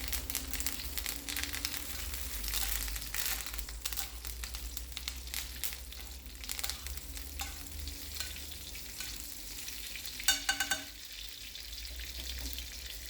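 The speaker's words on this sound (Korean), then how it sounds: "버터를 완전히 녹이고 거품을 낸 다음 끼얹어 줍니다." A salmon steak fries in a pan while foaming melted butter is spooned over it, giving a steady crackling sizzle with bursts of spattering and spoon scrapes, close and fairly quiet.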